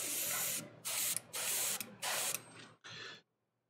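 An airbrush sprays pearl paint onto a Warhammer 40K Magnus the Red model in five close, loud hissing bursts separated by short pauses, the last one shorter, then silence.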